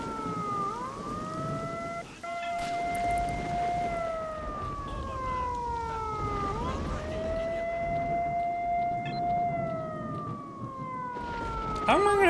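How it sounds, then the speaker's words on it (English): An in-game siren in S.T.A.L.K.E.R.: Shadow of Chernobyl wails loudly and continuously, its pitch sweeping up and down in long repeating cycles with a few clanks and footsteps underneath. "How am I gonna turn off the siren?"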